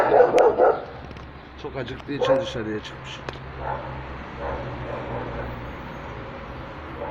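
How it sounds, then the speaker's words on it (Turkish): A dog barks a few times in quick bursts near the start, then fades behind a person speaking over quiet background noise. "Duyduğunuz köpek seslerinden e,"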